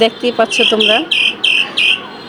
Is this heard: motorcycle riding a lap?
no